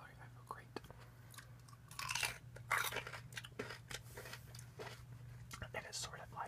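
Crunchy celery being chewed close to the mic, a series of crisp, wet crunching bites that swell louder in the middle, over a faint low hum, with soft talk around it.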